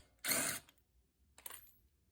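Ratcheting wrench working a castle nut loose on an ATV, two short bursts of metallic clicking separated by about a second of quiet, close and faint.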